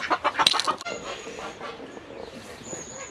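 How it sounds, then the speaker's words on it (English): Light Sussex chickens in a garden cluck in a quick burst of several close calls, then soft scattered sounds follow over faint background noise. "we do find lurking in its natural habitat the light Sussex chicken"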